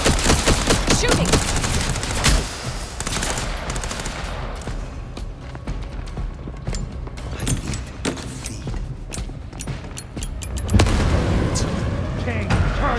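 Dense video game gunfire in Vampire: The Masquerade – Bloodlines 2, rapid bursts and loud booms of a chaotic firefight, with voices shouting under the shots.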